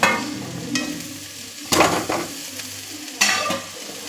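Tragia involucrata (chorianam) leaves stirred in a pan, a soft sizzle under three distinct scraping stir strokes at spaced intervals, close by.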